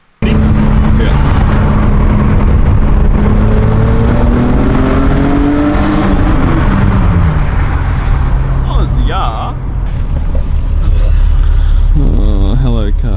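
Toyota MR2 with a new aftermarket exhaust revs hard on launch control, then pulls away with rising gear sweeps, loud and close from inside the car, with people talking and shouting over it.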